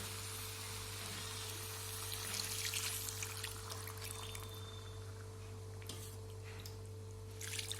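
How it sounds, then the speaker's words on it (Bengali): Hot water trickles and pours into cooked chicken in a pan, a quiet splashing pour with faint sizzling and a few small clinks, heard close but at low level. "আমি এখন এর মধ্যে অ্যাড করব গরম জল"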